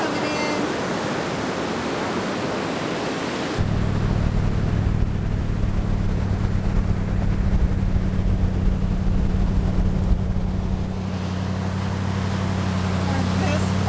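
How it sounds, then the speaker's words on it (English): A vehicle drives along the sand at North Beach on Padre Island, Texas, close to the rising tide; after a few seconds a steady low engine rumble sets in under constant wind and surf noise. "It's crazy driving on the beach like this."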